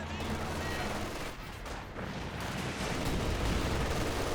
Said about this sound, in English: Double MG42 firing away